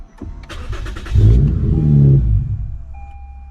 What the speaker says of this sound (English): All right, it turned on normally this time.